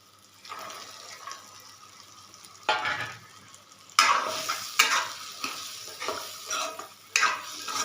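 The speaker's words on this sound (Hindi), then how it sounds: "अब इनको अच्छी तरह से मिक्स कर लूँगी।" Fried chickpeas being stirred and mixed into masala in a pan, with repeated scraping spoon strokes over a soft sizzle, close and moderately loud, with no talking.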